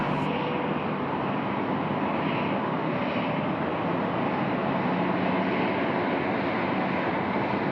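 An airliner lands at Sydney Airport at night, its engine roar loud and steady throughout, close and without pause.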